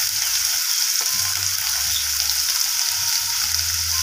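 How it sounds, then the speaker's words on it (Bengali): Cut potatoes and papaya frying in hot oil, a steady broadband sizzle throughout with low stirring scrapes and thumps now and then, close and continuous with no voices. "কেটে রাখা আলু আর পেঁপেগুলোকে আমি তেলের মধ্যে দিয়ে দিলাম।"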